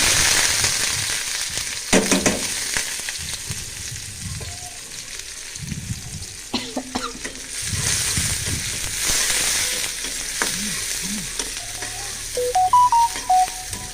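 Onion and dried fish fry together in a pan with a continuous close sizzle, broken by scraping stirs and a few sharp utensil knocks, with faint background noise between them.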